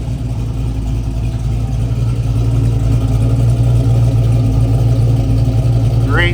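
A freshly tuned 1967 Chevrolet Chevy II Nova with a Chevy 350 V8 crate motor idles steadily, a loud, deep rumble heard from behind the car, with a brief rising rev near the end.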